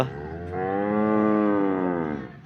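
A freshly calved cow gives one long, drawn-out moo that swells and fades over a couple of seconds, close and clear with no talking.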